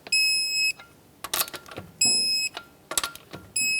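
A digital torque wrench beeps at its set torque on lug nuts during front ball joint work on a 2001-2003 Lexus ES300, giving four short, bright, evenly spaced electronic beeps with soft clicks between, fairly quiet and close.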